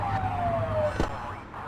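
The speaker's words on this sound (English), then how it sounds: "Get on their tail and flip the siren" A police car siren in The Precinct video game sweeps in a smooth falling wail over steady engine drone, with a sharp whoosh partway through; no talk.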